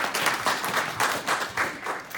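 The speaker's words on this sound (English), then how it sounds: "They're clapping for you, Richinda" Audience clapping at a business and community presentation, a brief burst of applause from a modest crowd, moderately loud with pulsing waves of claps.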